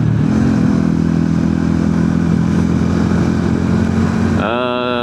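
Motorcycle engine droning steadily at speed while touring on a rural road past rice fields in Indonesia, loud and close, with a gear shift and rising rev near the end.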